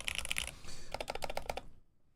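Typing on a BoardSource Mark 65 mechanical keyboard with re-lubed switches, a few quick clusters of soft clacky keystrokes close by, then a pause and a faster burst before falling silent.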